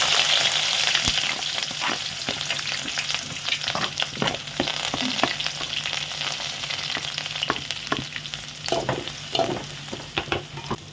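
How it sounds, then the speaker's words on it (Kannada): Onions fry in hot oil with mustard seeds and curry leaves, a loud dense sizzle that lasts the whole clip. Scattered crackles and stirring scrapes run through it, with no talking. "ಈರುಳ್ಳಿ ಚೆನ್ನಾಗಿ ಫ್ರೈ ಆಗಬೇಕು."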